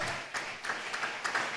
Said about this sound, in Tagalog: Palakpakan natin ang malakas na palakpak.